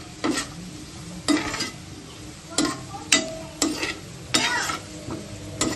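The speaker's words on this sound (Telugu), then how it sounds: "ఈ నెయ్యి వేసుకుని వేయించుకుని పక్కన పెడదాం" Cashews and raisins frying in ghee for bread halwa, a soft steady sizzle broken by regular scraping stirs of a spoon in the pan about once a second, close and without talk.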